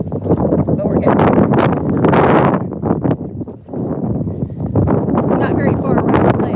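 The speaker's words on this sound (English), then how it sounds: "it's windy too" Gusty wind by a lake buffets the microphone in loud rumbling bursts, with people talking over it outdoors.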